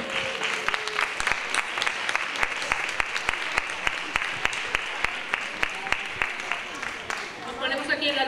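A crowd at a sports gala applauds a municipal rhythmic gymnastics school with sustained, dense clapping that settles into a loose rhythmic beat, then thins out near the end as voices rise.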